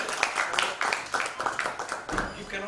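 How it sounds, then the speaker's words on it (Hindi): An audience at a tech-day gathering in a Mumbai hotel claps after being urged to, a loose run of overlapping hand claps with voices talking underneath. "जरा ताली बजाइए सर।"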